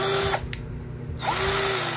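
A cordless drill whirs loudly at high speed, briefly stops for under a second, then spins up again and keeps running.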